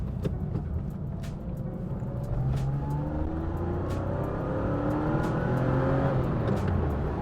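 A Porsche 911 Targa accelerates hard, its engine pitch sweeping up repeatedly through the gears with shifts around 5,000 RPM, heard from inside amid road and wind roar.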